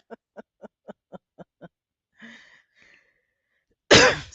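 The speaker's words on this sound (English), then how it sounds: "had to cough" A single person coughs close by in a quiet room during a casual talk show, preceded by a run of soft rhythmic taps and a brief murmur, ending in one loud, sharp burst.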